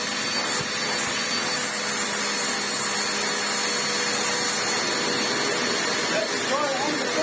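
A restored Vax Essentials bagless upright vacuum cleaner runs across carpet with a constant loud motor whine and airy rush, faint rubbing and pickup rattles showing up near the end.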